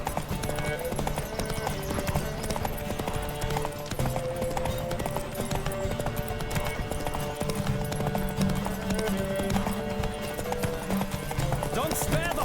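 Horse galloping in The Witcher 3: Wild Hunt, a steady clip-clop of hooves running through the whole stretch under game music and occasional speech.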